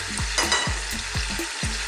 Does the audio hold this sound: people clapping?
no